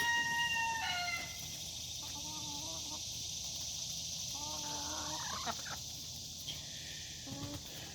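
Several hens clucking and calling on and around a deck with rising, drawn-out notes, scattered through a constant hum, close and clear.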